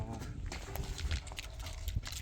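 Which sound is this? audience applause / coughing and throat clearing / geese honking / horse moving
horse moving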